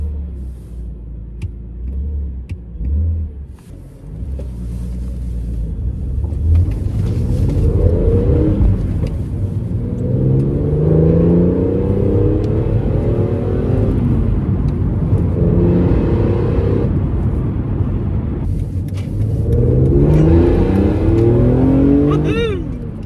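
A BMW Z4 M Coupe's S54 3.2-litre straight-six engine cranks and starts, then revs repeatedly, its deep growl rising and falling in strong bursts, loud and close.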